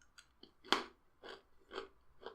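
Several crisp crunching bites of Pretzel M&Ms candy, one loud snap followed by three or four softer chews, close up with no talking.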